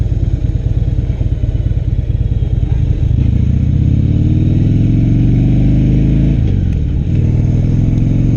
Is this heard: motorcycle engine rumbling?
yes